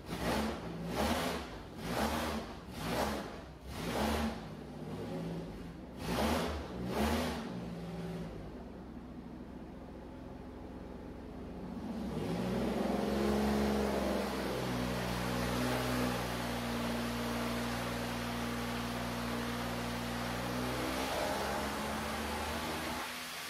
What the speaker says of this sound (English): let's just take a look and see the motor run, because we all want to hear it run.